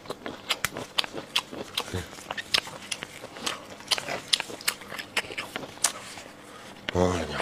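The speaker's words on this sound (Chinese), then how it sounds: "声控嘎吱嘎吱的" Someone eats braised beef kneecap and braised pork belly with lard rice, giving sharp, loud crunching bites in a quick irregular rhythm up close, with talking in between.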